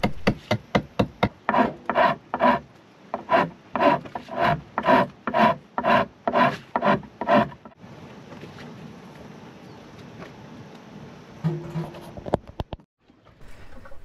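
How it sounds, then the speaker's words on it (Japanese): A hand file rasps wood to shape a homemade spear gun grip, about fifteen steady rhythmic strokes close by, then quieter low scraping and a few light knocks. "その都度合わせてみながら調整して削っていきます"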